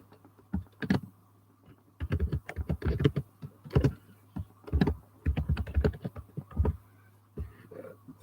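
Someone types on a computer keyboard close by, with bursts of quick key clicks separated by short pauses, loud and clear against a faint steady hum.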